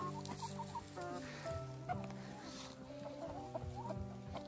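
Farmyard chickens cluck repeatedly in short, uneven bursts, several birds sounding close together and fairly loud, with no talking.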